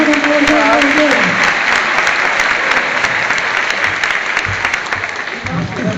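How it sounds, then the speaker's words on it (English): Audience applause at a sea lion show, a loud sustained wash of clapping that fades slightly toward the end, with a voice briefly audible early on. "Give them both a big round of applause"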